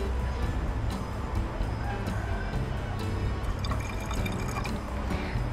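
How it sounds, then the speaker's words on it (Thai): Onion-skin water poured into a half-filled spray bottle to dilute it as a plant fertilizer, heard as a close, continuous trickle with small drips and splashes, under steady background noise. "ผสมน้ำในฟ็อกซี่ครึ่งขวดแล้วก็ใส่น้ำอันนี้นะคะไปอีก ประมาณครึ่งขวด"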